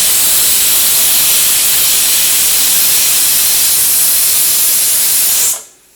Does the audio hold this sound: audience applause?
no